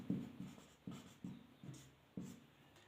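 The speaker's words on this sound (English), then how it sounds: "I will write it here." A pen writes on paper during a math lesson, making short soft scratching strokes in an uneven rhythm, close and quiet, with no talk.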